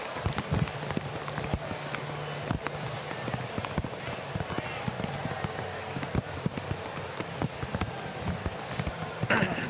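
Heavy rain pours down at the Atlanta Braves baseball stadium during a Pirates–Braves game, a steady dense patter with sharp drop hits throughout, and a voice talks beneath it.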